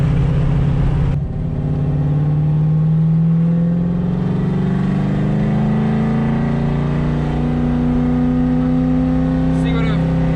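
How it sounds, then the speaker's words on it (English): A 600-horsepower drift Corvette pulls hard in second gear from inside the cabin, its loud engine note climbing steadily in pitch over about ten seconds under a constant roar, with speech present in the background. "See what a second gear pull feels like."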